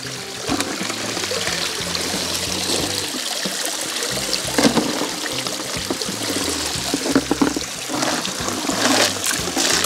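Small powered fluid bed sluice for gold prospecting with a punch plate, water running and splashing continuously through it outdoors, a steady close rushing trickle with no talking.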